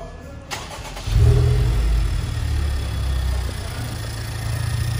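A Honda Civic Type R fitted with a new big bore throttle body cranks briefly and starts, then settles into a steady, loud, close idle that holds for several seconds.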